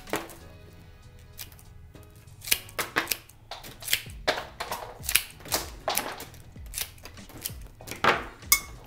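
Long flower bouquet stems are snipped shorter in a run of crisp, close cuts that come in irregular bursts, with quiet handling noises between them.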